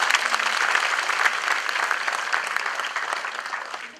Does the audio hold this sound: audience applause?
yes